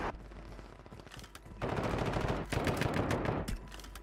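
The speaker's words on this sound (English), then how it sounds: "Little decoy grenade going down." A decoy grenade in Call of Duty Warzone fakes bursts of gunfire: clusters of rapid machine-gun-like shots in stretches separated by brief pauses, fairly loud and close, with no talking.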